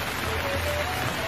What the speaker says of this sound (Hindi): एक दिन आधी रात को अचानक बहुत तेज बारिश होने लगता है।